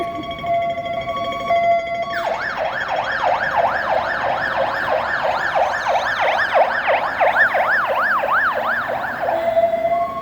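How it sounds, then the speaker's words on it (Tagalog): An ambulance siren wails along a city street, its rising and falling sweeps loud and close as it passes, sustained over steady traffic and street noise with no talking. "Emergency ambulansya."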